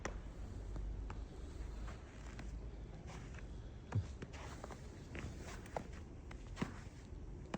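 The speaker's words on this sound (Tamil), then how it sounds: "எந்த ஒரு காலடியுமே இல்லை நான் தான் ஃபஸ்ட்டு வந்து நடந்து போகிறேன்" Footsteps crunch through fresh overnight snow on a short walk, a steady, fairly close series of soft treads with a few sharper crunches, no talking.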